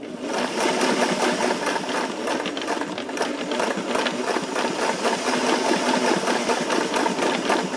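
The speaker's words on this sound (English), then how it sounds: "I'm gonna go forward, back, and forward, back to give a nice narrow zigzag stitch." A sewing machine runs steadily throughout, stitching a narrow zigzag to reattach a belt loop on a pair of pants. The rapid, even needle chatter and motor whir sound close and continuous, with no talk.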